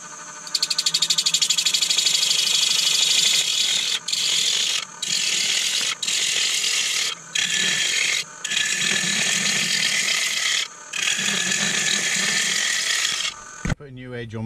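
A wood lathe spins a bowl blank for a Viking-style bowl at 750 RPM while a gouge turns it round. The cut makes a loud, steady, rattling chatter that breaks off briefly several times, then ends with a short clatter.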